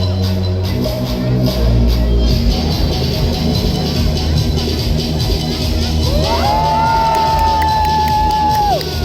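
A crowd cheers and shouts during an aerial lion dance freestyle display over a lake in Indonesia, with loud whoops, children's shouts and a rising whistle-like tone over the cheering.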